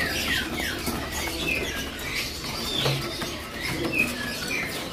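Oriental magpie-robins in a bird shop chirp and squawk in short scattered calls over a steady background hum, like a room full of caged songbirds.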